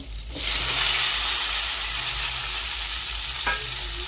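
Fresh curry leaves and tomato dropped into hot tempering oil for Marathi-style dal, a sudden loud sizzle that bursts up and then settles into a steady hiss, with a brief clink partway through.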